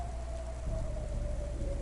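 Steady rain falls outside a restaurant in the video game Cloudpunk, a constant hiss with a faint sustained hum running through it.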